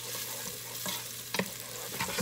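Onions fry on high heat in a pan for vegan fried rice: a continuous close sizzle, broken by a few sharp scrapes and stirs of the spatula, with no talking.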